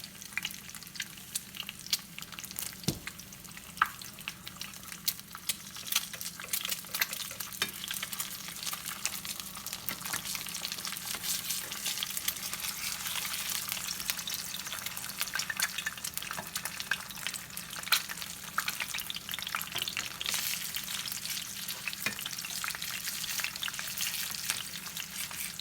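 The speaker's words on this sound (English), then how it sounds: "you're just gonna fry you some eggs" Eggs frying in a pan give a steady, close sizzle with light crackles and pops throughout, with no voices.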